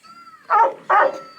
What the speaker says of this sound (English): he's just gonna bark